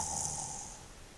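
A voice imitates snoring, a single drawn-out nasal snore that fades away over about a second.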